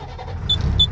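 A truck loaded with tomatoes pulls away on a road, heard as a brief, close engine and vehicle rumble with a couple of short higher tones.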